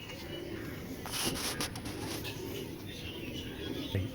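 Racing pigeon chicks coo softly at close range among shuffling and a few sharper clicks and knocks, with faint low background noise throughout.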